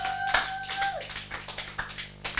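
A church congregation at a French-language service claps in praise of Jesus: scattered, uneven hand claps at close range, with a brief high whistling tone over the first second.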